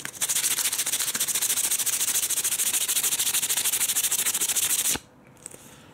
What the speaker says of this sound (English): I'm going to get a bit of sandpaper and just run this all over it, smooth it all